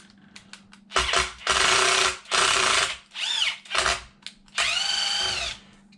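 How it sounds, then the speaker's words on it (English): Power drill boring and tapping aluminum for an RC part, several short close bursts of whining motor that rise and fall in pitch, with pauses between and no talk. "Just an easy way to drill and tap something"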